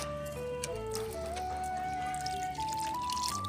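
Potassium humate solution, about a litre of water, is poured from a container straight onto the soil of a potted lemon plant, a steady trickling pour whose pitch slowly rises as it goes on, close and alone.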